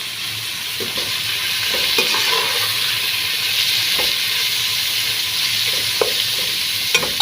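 Ingredients for Kuwaiti-style prawn and moong dal rice fry in a pan with a steady, close sizzle, broken by regular scrapes and clinks as a utensil stirs.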